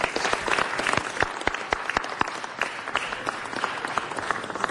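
A crowd applauds at a city council meeting, dense sustained clapping with sharp individual claps standing out, fairly close and steady from start to finish with no talk.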